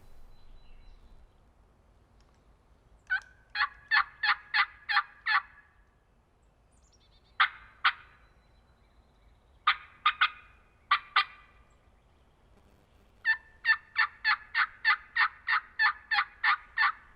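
A wild turkey gobbles repeatedly on Tennessee public land in late morning, several rapid rattling gobbles in bursts separated by quiet pauses, clear and moderately distant against faint low background noise.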